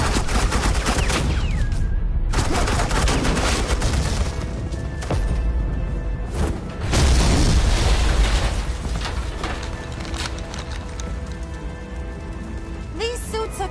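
Suppressing gunfire erupts in a Batman Telltale game scene, dense bursts of rapid shots and booming blasts close and loud, with short pauses between volleys and a few distant echoing cracks.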